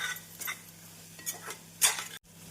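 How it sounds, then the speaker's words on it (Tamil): Vegetable kurma masala is sautéed over a medium flame, with faint, intermittent scrapes and light clinks of a utensil stirring in a pan over a quiet, low background, and no talking. "மசாலாக்கள் சேர்த்து மீடியம் ஃப்ளேமில் நன்றாக வதக்க வேண்டும்."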